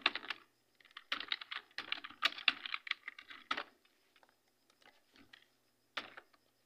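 A name being typed on a computer keyboard: bursts of quick, close key clicks, then a pause, then a few scattered single taps, with no voice.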